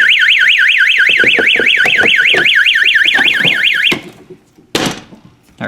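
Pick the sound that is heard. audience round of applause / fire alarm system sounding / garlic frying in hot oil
fire alarm system sounding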